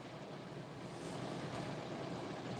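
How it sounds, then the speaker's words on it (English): Steady rushing water, a dense even wash like surf or a flowing stream that holds constant for a few seconds and grows slightly louder partway through, with no voices. "I can hear water, man."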